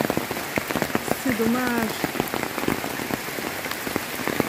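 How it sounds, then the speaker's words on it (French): Heavy rain pours steadily during a jungle thunderstorm, a dense close hiss of drops on surfaces, with a person speaking briefly over the downpour. "Alors la pluie bat son plein là, l'orage bat son plein."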